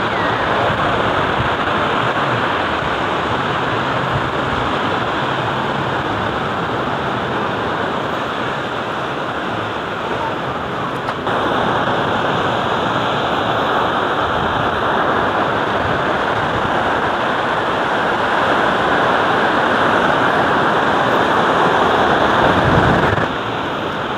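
Sea waves at Mũi Nghinh Phong in Vũng Tàu roar in a loud, continuous wash of surf, with wind buffeting the microphone throughout and no speech.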